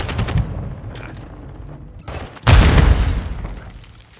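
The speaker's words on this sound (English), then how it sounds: "Throwing flash grenade!" A flash grenade goes off in a video game: a sudden loud, sharp bang about halfway through, preceded by quieter scattered gunfire-like pops and fading out over the next second.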